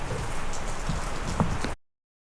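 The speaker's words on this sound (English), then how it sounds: "I did not realize how hard it was actually raining about a mile away" Heavy rain pouring down as a steady dense hiss with scattered drop impacts, fairly close, cutting off abruptly after under two seconds.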